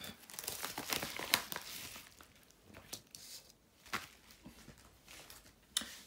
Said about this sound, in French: je vous montre sa petite carte